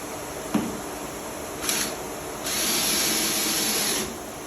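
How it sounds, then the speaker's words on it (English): A power drill drives a screw into a carved wooden bigfoot statue: two short bursts, then a steady whirring run of about a second and a half, close and fairly loud with no talk. "I find a drill is a little bit easier. Simply screw it in."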